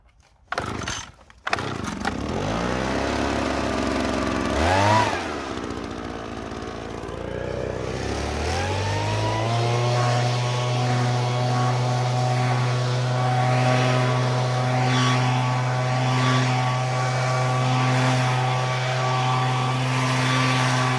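An old RedMax HB2300 gas leaf blower clearing snow from a driveway in the cold: the engine sputters into life, revs up and settles into a loud, steady high drone close by.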